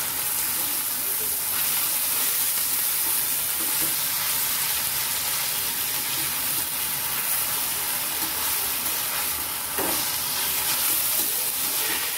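Cowpea leaf greens being fried with browned onion in a pan, giving a constant loud hissing sizzle with occasional stirring scrapes and clinks.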